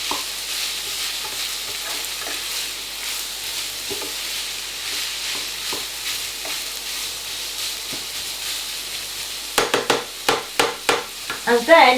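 Vegetables for a mac and cheese lasagne being stirred and fried in a pan, a steady sizzle under scraping stir strokes, with sharper clatters of the spoon toward the end.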